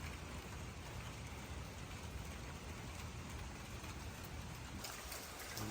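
Heavy rain pours down steadily on a wet morning, a dense, even roar of falling water that stays loud and unbroken throughout with no voices.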